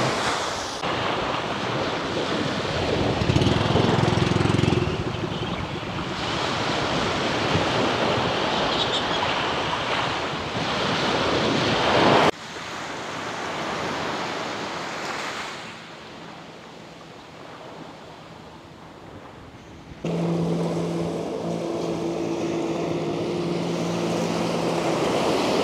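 Sea waves at Puerto Galera wash and surge continuously in a broad roar. Heavy wind buffets the microphone, and there is a faint motor-like hum near the end.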